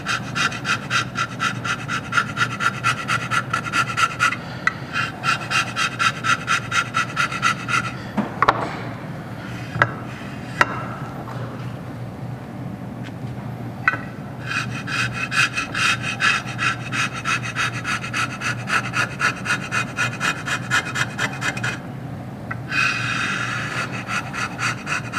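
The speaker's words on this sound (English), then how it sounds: "You just have to see how it takes that leftover material and scrapes it." A metal scraper strokes leftover gasket material off a flat engine surface in a steady run of close, rasping scrapes, pausing briefly twice before the rhythmic scraping resumes.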